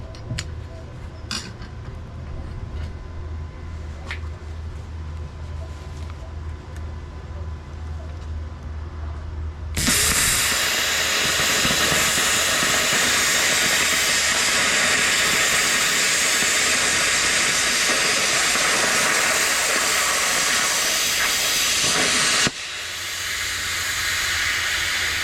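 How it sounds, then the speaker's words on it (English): A GZ GUOZHI plasma cutter set to 50 amps slices through quarter-inch aluminum plate, a loud, steady, close hiss that starts abruptly and holds for about twelve seconds before cutting off over a low mechanical hum. "The machine is still on the 50 amps, so I'm gonna cut the 1/4 inch plate first,"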